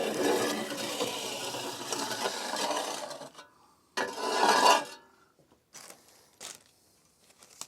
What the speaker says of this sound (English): I made some time ago a scraper to scrape things out.